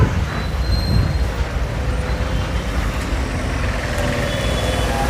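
Heavy, jammed road traffic with a steady loud rumble of trucks and other vehicles close by, faint tonal beeps cutting through the dense, continuous noise.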